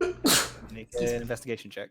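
A single quick sneeze near the start, loud and close, followed by someone talking during a tabletop role-playing game session.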